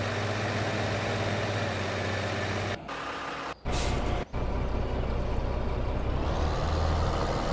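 A truck's diesel engine idles steadily in Farming Simulator 15, interrupted by sharp hissing bursts of air brakes, after which the engine rumble resumes and shifts pitch.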